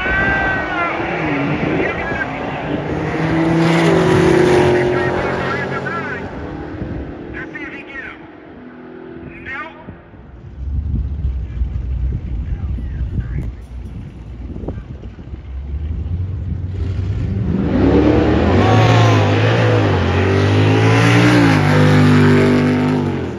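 A Jeep Trackhawk making a drag strip run, its engine revving and roaring with wind buffeting the microphone, fading mid-pass and then swelling loud again near the end, while people shout and talk over it.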